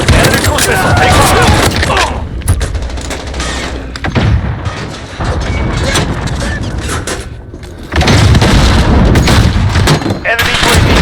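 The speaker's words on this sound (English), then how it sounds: "Enemy cruise missile, take off." Heavy explosions and a roaring blast from a cruise missile strike in a Call of Duty Modern Warfare Ground War match, loud booms surging twice amid continuous gunfire and battlefield din.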